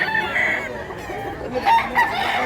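Chickens cluck and a rooster crows in a busy chicken market in Mantalungon, Cebu, the calls overlapping in a dense, loud, continuous din of fowl close by.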